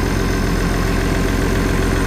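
An International Harvester 1086 tractor engine runs at a steady idle, a loud, constant low rumble with an even mechanical throb and no voices over it.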